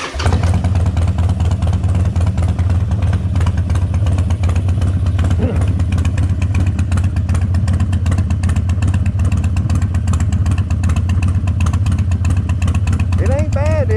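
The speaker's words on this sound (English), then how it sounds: "I ended up having to just open up the throttle just a little bit because it was idle way too low" A Harley Davidson motorcycle engine that had not run in three years idles steadily with the throttle opened slightly, giving a continuous low, clattering rumble with no pauses.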